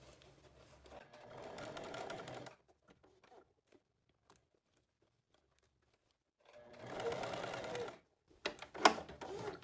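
A sewing machine stitches the waistband of pleated shorts in short, close bursts of rapid needle chatter separated by quiet pauses while the fabric is adjusted.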